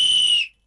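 One short, piercing blast from a toy whistle, loud and close, cuts off abruptly, with no voices.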